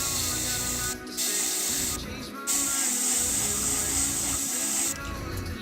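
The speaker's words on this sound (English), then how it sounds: "So I need to spray at a very small pressure" An airbrush spraying paint onto a model at very low pressure, a continuous close hiss broken by a few short pauses as the trigger is released and pressed again.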